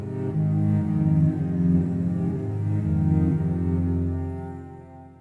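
Layered bowed cello notes from a Kontakt sample library preset, untrimmed so note tails overlap into a slightly messier, denser wash, continuous and close with gentle swells throughout.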